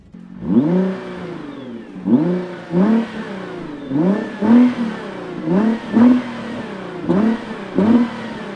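A 2017-2018 Nissan GT-R R35 engine is revved repeatedly, about seven sharp rising blips with pauses between, loud and close with no talk over it.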